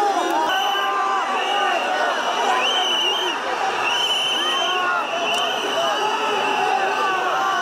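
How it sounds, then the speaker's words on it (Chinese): A large crowd of protesters rioting outside parliament in Serbia shouts and chants in a dense, continuous roar of overlapping voices that stays loud and steady throughout. "众人声声抗议，不断高呼要总统武契奇马上下台。"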